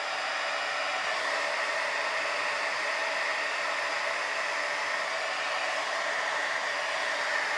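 A hair dryer blows steadily on fabric flowers, a loud, continuous rushing whoosh that holds at the same level from start to finish with no talking.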